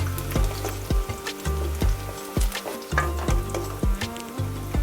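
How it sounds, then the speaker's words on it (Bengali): Two large onions deep frying in oil until crisp and brown, a busy bubbling sizzle under repeated low thumps and scraping stirs at roughly half-second intervals. "দুটো বড় সাইজের পেঁয়াজ বেরেস্তা করে তুলে নেবেন।"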